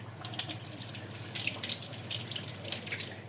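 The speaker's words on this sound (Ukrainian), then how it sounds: "замість миски нормально я мию помідорки в ложці" Tomatoes rinsed in a spoon under a running kitchen tap, a steady splashing water stream with light spattering, close and continuous without any talk.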